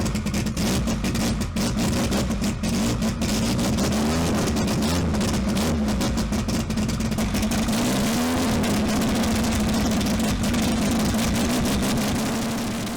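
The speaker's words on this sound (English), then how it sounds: "What you're about to witness is the fury of a Nissan Skyline GTR R32." A Nissan Skyline GTR R32 engine roars loud and close, holding a sustained revving drone whose pitch rises and dips as it accelerates for the whole stretch, with no voices over it.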